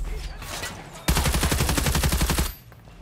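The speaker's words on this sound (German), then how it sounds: "Oh, wer schießt denn da?" Rapid automatic gunfire from enemies in a video game, a sustained burst of closely spaced shots that starts abruptly, rattles loudly for about a second and a half, then cuts off, with faint earlier ambience and soft voice in the background.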